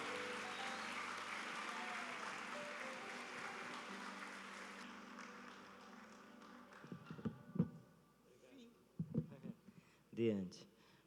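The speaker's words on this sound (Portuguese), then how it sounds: "uma salva de palmas desta igreja abençoada que ama o seu pastor" A church congregation applauds during a worship service, a faint broad wash of clapping that fades away midway, after which a voice speaks with a few scattered sounds.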